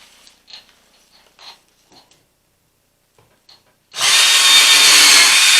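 A few faint taps and clicks, then a power drill suddenly whirs loudly and steadily as it bores into a wooden Yule log.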